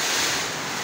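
Strong typhoon wind howling during Typhoon Emong in La Union, a loud, steady broadband roar with no pauses, close to the microphone and buffeting it.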